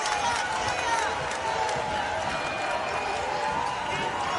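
Gator fans cheer and roar inside an arena during a Florida versus Miami NCAA women's basketball game, a steady crowd din with sneaker squeaks, while an announcer talks over it.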